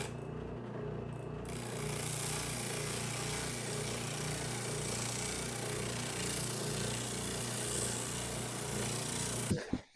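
A round sanding attachment on a power tool smooths the inside curve of a wooden cutting board for a custom sink, giving a steady, loud whirring grind that holds for nearly ten seconds before cutting off.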